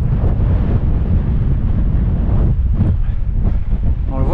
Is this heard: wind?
yes